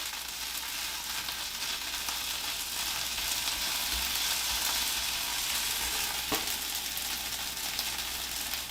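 Tomato paste fries in a pan for shakshuka, giving a steady, close hiss and sizzle with occasional stirring scrapes and no talking.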